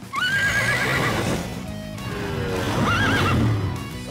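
A cartoon pony neighs twice, two loud, high, wavering whinnies with a short pause between them, heard alone with a faint clatter of hooves underneath.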